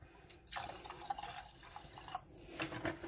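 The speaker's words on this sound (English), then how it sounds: "Pour in the milk." Milk poured into a pot of crab mac and cheese base, a steady gentle trickle with light dripping and splashing, quiet and close, no voices.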